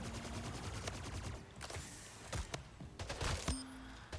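Rapid automatic weapon fire in the arena shooter Splitgate, several quick bursts and single sharp shots with in-game effects, moderately quiet and without speech.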